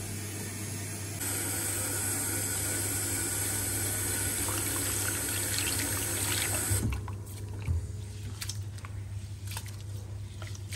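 Water runs steadily while roasted lentils are washed by hand for a large Pongal batch, with squishing and splashing in the later seconds over a constant low hum.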